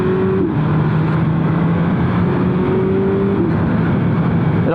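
A BMW S1000R motorcycle engine revs up steadily as the rider accelerates toward 80, with rising gear tones and a brief shift dip, loud and continuous with no talk.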